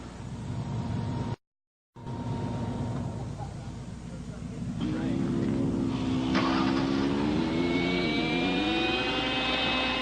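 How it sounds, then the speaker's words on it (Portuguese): Radio-controlled helicopter flying in stormy wind during tornado chasing: a whining engine and rotor drone with rising and falling pitch over rushing wind, growing louder partway through after a brief dropout, with voices in the background. "É a hora da última experiência com o helicóptero controlado por rádio sob essas condições"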